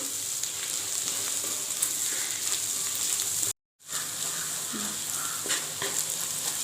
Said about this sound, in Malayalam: ഉള്ളി നല്ല ബ്രൗൺ നിറമായി വന്നിട്ടുണ്ട് വളരെ ചെറുതായിട്ടാണ് ഞാൻ ഉള്ളി അരിഞ്ഞ് വെച്ചിരുന്നത്